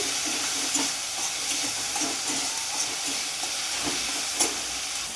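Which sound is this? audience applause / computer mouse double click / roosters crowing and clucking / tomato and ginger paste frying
tomato and ginger paste frying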